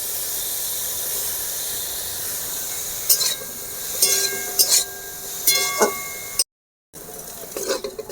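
Steady hissing sizzle of a samosa filling with peas frying in a pan, with intermittent scraping stir noises and a brief gap of silence near the end.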